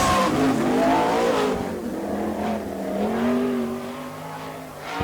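A sprint car on a qualifying lap at Lawrenceburg, Indiana, during the All Star Circuit of Champions Hoosier Fall Classic, its engine howling and rising and falling in pitch as it roars around the track, loud and continuous.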